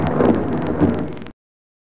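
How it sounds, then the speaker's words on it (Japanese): Thunder sound effect added to a thunderstorm scene in CrazyTalk Animator, a loud broad rumble lasting just over a second and cutting off abruptly into silence. "今度は雷を入れます。"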